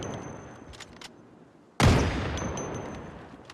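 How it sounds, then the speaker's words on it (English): A single loud hunting-rifle shot in the video game Project Zomboid, a sharp crack followed by a decaying rumble, set against faint background game ambience. "I have like, what, 300 shots for this weapon."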